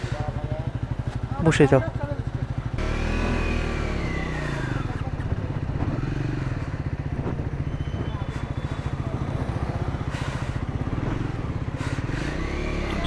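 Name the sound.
Triumph Scrambler 400X motorcycle engine starting and running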